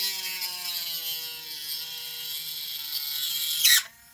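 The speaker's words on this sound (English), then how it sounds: "I've been using, what would you call this? Tiny little Dremel with an angle on it, a conical shape." A tiny Dremel rotary tool with a conical bit whines close by while working a hole during a digital chip install in a Porsche GT3 slot car. The high, steady whine slowly drops in pitch, then ends in a short, harsh grinding burst.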